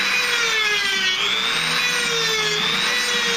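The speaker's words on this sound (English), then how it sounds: "got my little Dremel out. I'm gonna finish out this choil." A small Dremel rotary tool grinds the choil of a carbon steel knife blade, giving a continuous high whine that rises and falls slightly in pitch. It is loud and close, and no one speaks.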